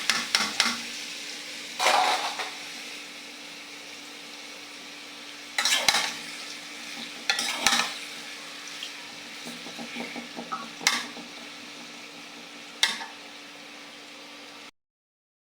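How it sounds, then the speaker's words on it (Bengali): Onions and green chilies sizzle in hot oil in a wok, the start of a braised koi fish dish, with a steady frying hiss broken by several loud stirring scrapes and bursts, close up and without talk. "এবার পেঁয়াজ কাঁচামরিচ দেব, কই মাছটা ভুনা করবো।"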